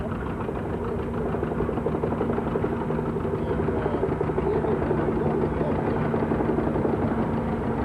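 An antique Allis-Chalmers Model E steel-wheel tractor engine runs steadily at an outdoor heritage show, a loud continuous low chugging rumble throughout with a faint voice barely audible underneath.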